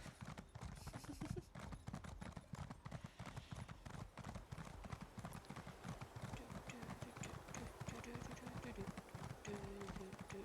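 Horse hooves galloping in Elder Scrolls Online, a fast, close, steady clip-clop rhythm that runs throughout, with faint voices now and then underneath.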